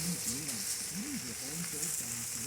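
Brats sizzle on a Blackstone griddle in a steady, dense frying hiss that continues without break, close and evenly loud throughout.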